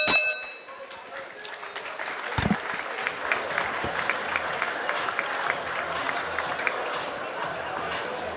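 Audience clapping at a head-to-head contest, a burst of applause building after a sharp clang and carrying on steadily, with talk and crowd noise mixed in.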